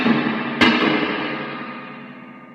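A Gibson GA19RVT Falcon tube amp's spring reverb turned to max rings out after a sharp struck transient, the wash decaying slowly and smoothly over a couple of seconds with no playing on top.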